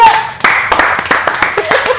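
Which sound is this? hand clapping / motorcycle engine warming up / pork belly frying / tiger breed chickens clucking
hand clapping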